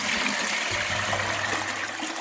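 Liquid is poured into a container, giving a steady close-up splashing trickle that runs continuously.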